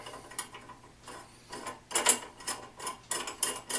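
An antique hand crank grinder spins on the bench, giving a quiet, uneven series of mechanical clicks and light rattling bursts, close by with no other sound.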